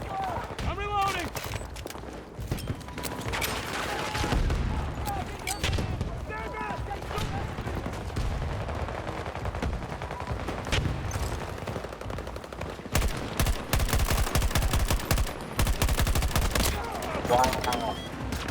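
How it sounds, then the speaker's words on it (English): Gunfire in a first-person shooter video game crackles in rapid bursts and machine-gun strings, loud and close, with excited voices talking over the shots. "They're shooting!"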